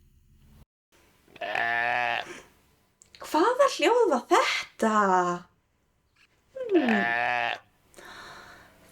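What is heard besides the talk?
sheep bleating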